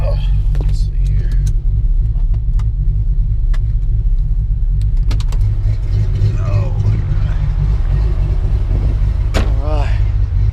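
A car with a performance cam idles and lugs at low speed, its engine rumbling loud and steady with an uneven, slightly bucking pulse, under occasional talk.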